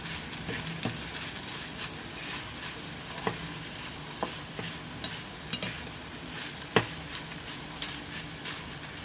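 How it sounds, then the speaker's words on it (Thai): Mushrooms and tofu dry stir-fried in a pan without oil, a soft steady sizzle with repeated scraping and tapping of a utensil against the pan, close, with no talking. "เห็ด นี้ไม่ต้องใส่น้ำมันรวน รวนไม่ต้องใส่น้ำมันเต้าหู้รวนก็ไม่ใส่น้ำมัน"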